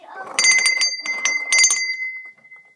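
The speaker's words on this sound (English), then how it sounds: "That's the ship's bell." A ship's bell mounted on a boat bed rings in bright clanging strokes, a short burst, a pause, then another burst, with a sustained ring that fades out, near and loud, while people talk quietly underneath.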